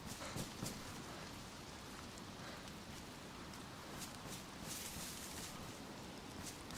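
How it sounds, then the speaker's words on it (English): Steady rain patters on a surface in the video game DayZ on the DeerIsle map, a soft continuous hiss with scattered droplets, no talking. "It's starting to rain."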